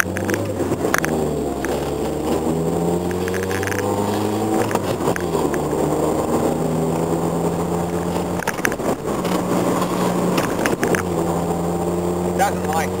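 A disliked car's engine runs with a steady, rumbling harmonic drone that slowly rises and falls in pitch, close by throughout.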